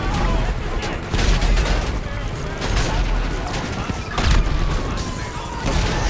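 Rapid gunfire and booming blasts from a GTA 5 match, with a tank in play: bursts of shots and heavy impacts repeat across the stretch, loud and busy throughout.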